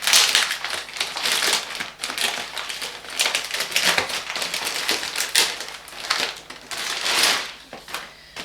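A cardboard parcel is ripped open by hand: continuous close tearing and crinkling of paper and packaging, with dense crackly bursts that rise and fall over several seconds.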